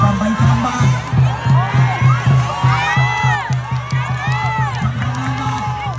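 A crowd at a ngo boat race shouts and cheers in rhythmic waves, with whistling and excited voices, while an amplified announcer talks over the noise.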